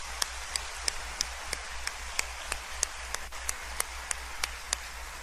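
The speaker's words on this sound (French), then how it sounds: "75 merci et un vibrant applaudissement." An audience at a university academic ceremony claps sparsely in a steady, even rhythm, each clap sharp but faint over a constant low electrical hum, with no voices.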